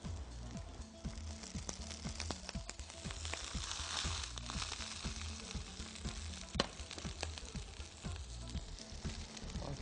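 Kebabs fry in a pan after a splash of vinegar, with a continuous crackling sizzle and frequent sharp pops and spatters, fairly close and with no talking.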